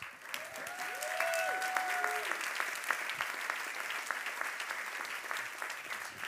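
Audience applause fills a banquet hall, dense steady clapping that holds at even loudness throughout, with faint voices and a brief tonal sweep early on.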